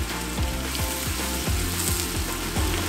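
Butter sizzles and crackles in a pan with chopped onion and garlic, while rhythmic scraping strokes of a stirring spoon repeat about every half second underneath.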